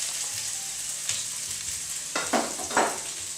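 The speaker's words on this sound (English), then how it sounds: "So, first into the pan we put the onions" Chopped onions hit a hot pan and sizzle up into loud, crackling frying bursts over a faint background hiss, with no talk.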